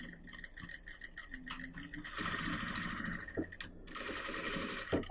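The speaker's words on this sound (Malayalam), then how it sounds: "ഇനി ക്യാൻവാസിൻ്റെ ഈ പറ്റിയെ കൂടി ഞാൻ സ്റ്റിച്ച് ചെയ്യാൻ പോവാണ്." A sewing machine stitches canvas for the collar of a front-open kurti, running in short stop-start bursts at first and then in a steadier whirring run, close and clear.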